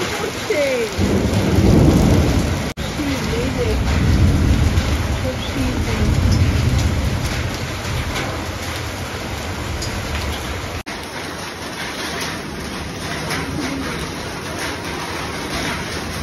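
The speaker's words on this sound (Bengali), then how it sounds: "বৃষ্টি হচ্ছে, কত শীত হচ্ছে," Heavy monsoon rain pours down while thunder rumbles loud and low in rolling swells during the first half, then fades to a steady roar of rain.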